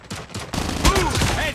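Call of Duty Mobile gunfire sounds as a quick cluster of sharp shots close by, with short game voice lines over it, packed into under two seconds.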